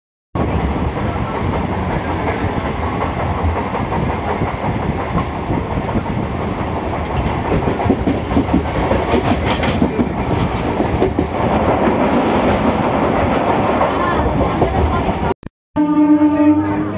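Riding inside a suburban train travelling from Bidhannagar station to Sodepur, a loud continuous rumble with rhythmic clickety-clack of wheels over rail joints, a short dropout near the end and faint voices underneath.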